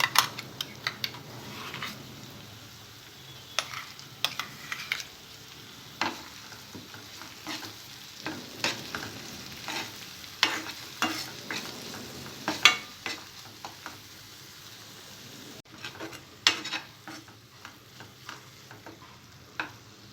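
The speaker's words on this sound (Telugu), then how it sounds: "మసాలా పేస్ట్ కొద్దిగా ఆయిల్లో ఫ్రై అయిన తర్వాత" Masala paste of tomato, peanut and sesame fries in oil for a Hyderabadi egg kurma, a soft steady sizzle broken by repeated scraping strokes of a spoon against the pan, with no voices.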